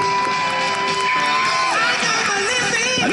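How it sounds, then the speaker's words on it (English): A crowd cheers for a knight at a jousting show at Tatton Park, a continuous roar of many voices with whoops and shouts, loud and close throughout. "let me hear you cheer for him now!"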